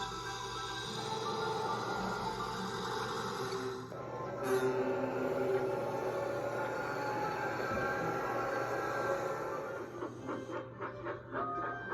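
A train rumbles steadily along the rails, a continuous low mechanical drone with a brief high squeal partway through and clacking near the end.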